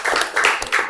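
A classroom audience claps during a teaching practice session, giving a brief burst of close, loud, uneven hand claps lasting about a second.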